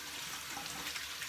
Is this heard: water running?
yes